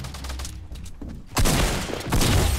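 Gunfire in the video game Fortnite, rapid bursts of shots with booming impacts, loud and close, the second half denser and heavier than the first.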